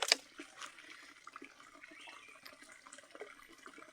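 Clean, cold spring water runs in a forest, a quiet steady trickle and splash with a brief louder gush at the start.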